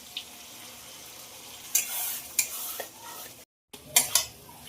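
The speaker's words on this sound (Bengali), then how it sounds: "আলু মশলা একদম ভাজা হয়ে গেছে" Potatoes with salt, turmeric, ginger, garlic, pepper and coriander frying in a pan, heard as a faint sizzle broken by scraping stirs and a couple of sharper clatters, with a brief silent gap.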